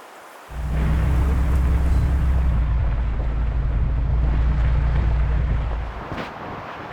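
Strong wind buffets the microphone outdoors in Montana moose country, a loud steady low roar that begins suddenly and holds for several seconds before easing.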